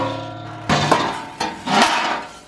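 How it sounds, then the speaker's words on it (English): Metal panel beating on the bodywork of a Mercedes W109 6.3 sedan: a few close, ringing hammer strikes land one after another on steel sheet. "I'm just doing some panel beating there to get those corrected."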